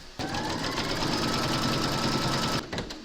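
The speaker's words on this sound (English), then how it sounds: "pop your hoop into your machine and stitch round number 3 to secure them" An embroidery machine stitching a securing line through a hooped fabric patch on a crazy-patch notebook cover, a steady, loud, rapid mechanical whirring and clatter that runs continuously, then stops abruptly near the end.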